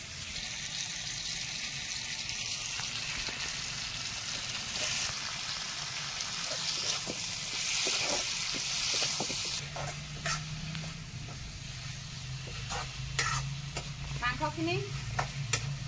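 Chicken sizzling as it is stir-fried with fried onions, with repeated clattering stirs and scrapes against the pan and a brief trickle of running water partway through.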